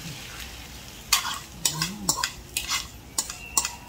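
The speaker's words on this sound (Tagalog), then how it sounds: "Hahaluin natin para ma-mix yung egg sa ating vegetable." Egg being stirred into bitter gourd and leftover food in a frying pan, a series of close utensil scrapes and clinks against the pan over a faint sizzle, with brief strokes in irregular rhythm and no speech.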